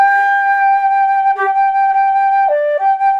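A flute tone played with slower air, one long steady sustained note with a brief pitch dip near the end, close and clear with no voices.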